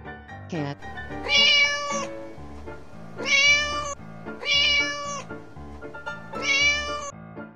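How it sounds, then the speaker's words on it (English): House cat meowing from a toy animal slide game, four loud, clear meows spaced about a second apart, with a short pitch sweep at the start and background clatter underneath. "cat."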